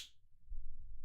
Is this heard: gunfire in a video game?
no